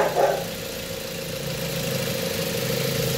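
A Mazda 3 engine idles steadily and evenly at close range after a rough idle was fixed, a smooth low hum with no speech over it.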